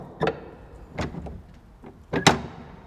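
Recorded close up with no talking, an old door's latch clicks and thumps in a few sharp knocks, with a short creak in between and a final louder clack.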